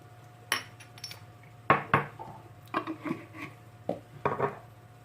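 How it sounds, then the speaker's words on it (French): Bread dough ingredients, including milk powder and olive oil, being mixed in a bowl, with sharp clinks and knocks of a utensil against the bowl coming in scattered bursts, close and alone. "on va mélanger comme ça au départ pour voir ce que ça donne, avant de mettre au pétrin"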